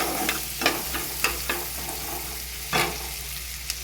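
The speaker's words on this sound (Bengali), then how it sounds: "সুন্দর স্মেল বেরোলে পেঁয়াজ কুচিটা দিয়ে দিলাম" Chopped onions hitting hot oil in a pan and frying with a steady crackling sizzle, punctuated by several sharp scraping strokes of a spatula stirring, close up with no voices.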